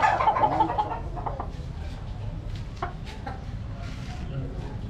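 A White Kelso stag rooster gives a few clucks and short calls up close, with someone talking over them and faint farmyard noise behind.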